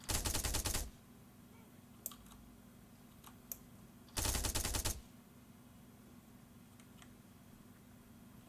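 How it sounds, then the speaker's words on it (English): Bursts of automatic gunfire from AI soldiers in the ARMA 3 military shooter, two loud sustained volleys about three seconds apart, with faint scattered clicks and distant pops in between. "they're already shooting at some stuff"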